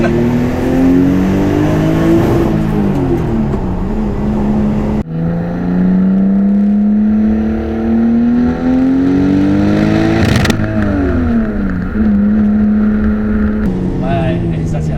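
A powerful Toyota Supra 3.0 engine revs hard up close, its pitch climbing and dropping as it accelerates through the gears.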